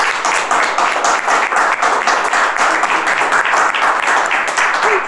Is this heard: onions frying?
no